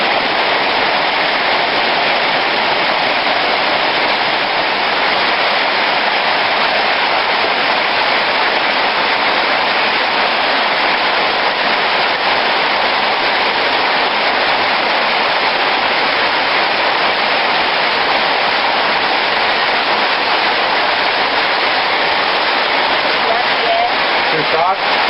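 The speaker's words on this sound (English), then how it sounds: "Cooking dinner and kind of started raining a little bit." Rain falls steadily at an outdoor campsite during dinner, a loud, dense, continuous hiss of drops on surfaces lasting throughout with no breaks.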